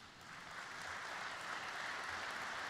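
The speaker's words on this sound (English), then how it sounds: "Can we give ourselves a round of applause?" Audience at a safety conference opening ceremony breaks into steady applause, a dense wash of clapping heard from a distance at moderate level.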